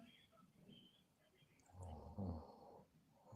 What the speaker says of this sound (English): I would say just snoring in the background.